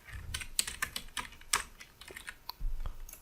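Someone types text on a computer keyboard: quick, uneven keystrokes clatter up close over a few seconds, with no voice.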